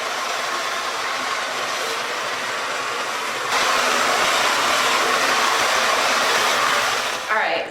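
A hair dryer fitted with an attachment, used for drying natural hair, blows a steady, loud broadband whoosh throughout, growing slightly stronger midway and dipping briefly near the end.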